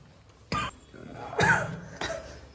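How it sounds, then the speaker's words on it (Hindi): A person coughs three times in a row, each cough a short harsh burst spaced about a second apart, close and fairly loud, during Vaman Panchakarma therapy. "तुम भी खांसना चालू कर दिया था"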